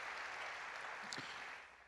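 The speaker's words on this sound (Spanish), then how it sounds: "¿Qué le parece si le damos un aplauso al Señor porque es bueno?" A church congregation clapping for the Lord, a faint, even wash of applause from many hands that tapers off at the end.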